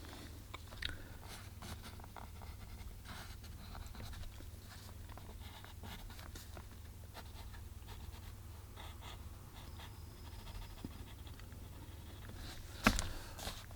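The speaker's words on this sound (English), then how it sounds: "Now I'll go over with a darker, softer lead pencil, just so we can kind of get more of a darker pencil line here" A dark, soft lead pencil scratches and strokes across paper while drawing a lighthouse, producing faint, steady rasping with small taps, over a constant low hum.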